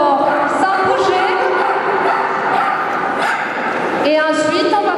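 At a dog show in Toulouse, a dog yips and barks in short bursts during an obedience demonstration of weaving between a handler's legs, close and loud, with someone talking throughout.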